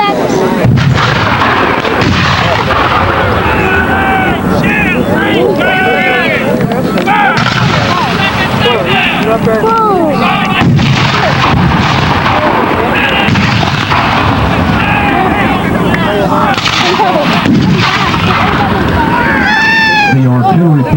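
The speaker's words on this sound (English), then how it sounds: "Now we hear the report of Confederate artillery as they answer back" Confederate artillery cannon firing at a Civil War reenactment at Sequoyah Caverns, heavy booms under an ongoing narrating voice and crowd noise throughout.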